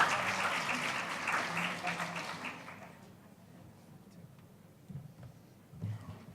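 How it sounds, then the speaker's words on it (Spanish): Audience applause welcoming a presenter at an academic talk on Chilean state universities, loud and dense for about three seconds, then thinning to scattered claps before fading. "Les invitamos a aplaudir como bienvenida a nuestro expositor"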